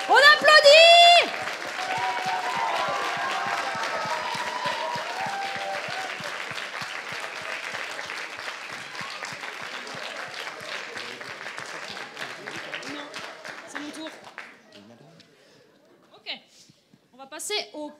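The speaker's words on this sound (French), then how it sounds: "On applaudit!" An audience at a solo cosplay contest awards ceremony, DETO 2018, gives sustained applause after a loud burst of cheering, the clapping steady for many seconds before fading out, with a presenter's voice speaking near the end.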